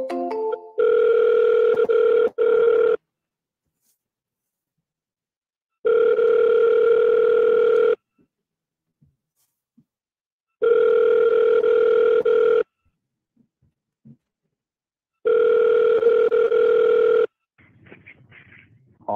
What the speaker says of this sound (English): we will double dial him